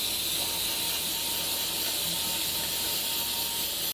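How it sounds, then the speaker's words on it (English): Pam cooking spray hisses onto a baking pan in one continuous close, bright aerosol spray lasting a few seconds before cutting off abruptly. "Do you mind if I spray the pan with Pam?"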